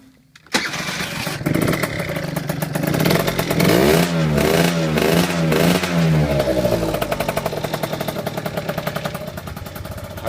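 A 2011 Piaggio Typhoon 50cc scooter fires up abruptly after a repair, then revs loudly and repeatedly in rising and falling sweeps before easing back toward a rattly idle, close by with no talking.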